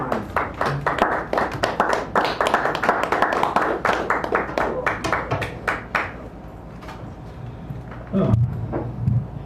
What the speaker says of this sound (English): give him a round of applause as he does so